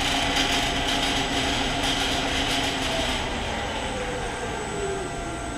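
A 7.5hp motor driven by a VFD spins a Clausing 1500 lathe, giving a steady, loud whirring hum with a high electrical whine, continuous and close, easing slightly toward the end.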